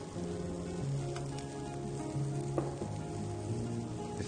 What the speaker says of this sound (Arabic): نشوحها شوي مع اللي هي البهارات الحب